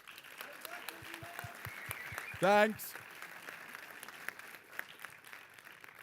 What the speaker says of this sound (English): maybe just give a big applause for Simon's birthday